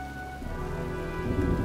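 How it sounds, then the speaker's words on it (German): Steady heavy rain in the video game Heavy Rain pours without pause, a dense wash that grows slightly louder toward the end, with a low rumble underneath. "Tja, sieht nach einem Sturm aus."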